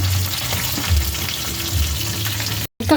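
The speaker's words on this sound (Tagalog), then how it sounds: "At haluin." Ginataang monggo, a mung bean and coconut milk stew with added salt, stirred in a pot: a steady bubbling sizzle with low scraping strokes, close and fairly loud, cutting out briefly near the end.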